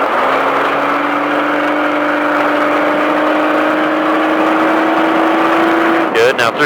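An off-road stadium truck engine at Speed Vegas holding a rising, steady drone as it accelerates, loud and close, with a voice talking over it and a sudden break in the engine note just before the end.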